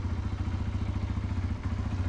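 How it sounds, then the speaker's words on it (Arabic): An engine on a used SYM NH-T 200 motorcycle idles while it warms up, a close, steady, rapid low chugging with light mechanical clatter throughout and no talk. "يلاه خليت الموتور تيسخن واحد شويه"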